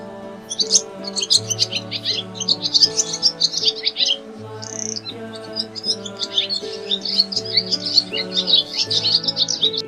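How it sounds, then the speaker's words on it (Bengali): A dove calls from a tree amid continuous bright twittering and chirps, set over steady sustained musical tones, with no voices. "ঘুঘু পাখি ডাকছে গাছে"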